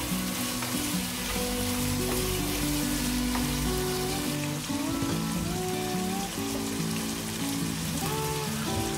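Continuous bubbling sizzle from a pot of octopus stewing on the heat, a dense crackling hiss that stays even from start to finish.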